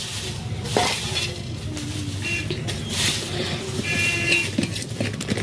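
A spoon whisks sugar and milk together in a bowl for cake batter, with quick scraping and clinking strokes heard up close and continuing steadily without talk.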